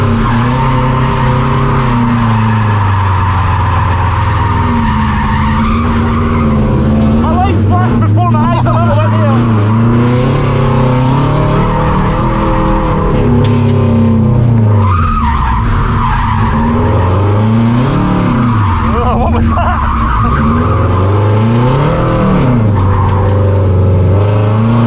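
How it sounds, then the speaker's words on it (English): A Subaru car drifting with tires skidding, the engine revving up and down in waves under a long, loud tire squeal, with a murmur of voices in the background. "You have made a Subaru drift when everyone said it wouldn't."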